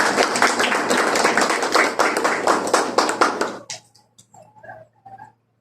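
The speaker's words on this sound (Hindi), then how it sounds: "तालियां" An audience at a church farewell ceremony for a pastor claps steadily and loudly for a few seconds, then the applause trails off into a handful of scattered claps.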